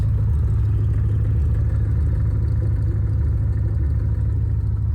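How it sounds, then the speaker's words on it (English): Exhaust of a 1990 Corvette ZR1 with the LT5 all-aluminum 32-valve double-overhead-cam V8 and six-speed, a steady deep idle rumble with a low throbbing pulse, close and continuous without any talking. "This exhaust sounds nice."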